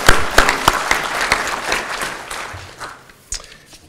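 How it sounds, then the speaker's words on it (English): Audience applause at an executive ethics symposium at a college of management, a dense patter of many hands clapping that thins out and tapers over a few seconds, with scattered sharper claps near the end. "How about a round of applause for Mike Wilson?"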